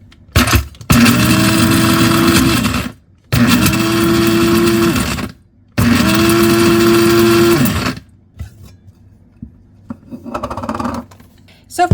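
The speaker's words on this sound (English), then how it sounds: "then we go ahead and grind a little more." Coffee grinder grinding dehydrated powders in three loud, close bursts of about two seconds each, separated by short silences, followed by faint rattling and handling noises.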